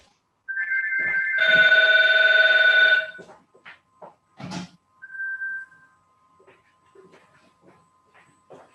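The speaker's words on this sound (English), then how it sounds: "So Karen's gone off to answer the phone, I think" A telephone rings inside an old country house, a loud steady electronic trill lasting a couple of seconds, followed by scattered knocks, footsteps and soft clatter in a quiet room.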